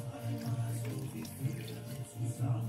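Water pours steadily into a container for a ginger-lemon shot, a soft, continuous trickling and splashing heard close by at low volume.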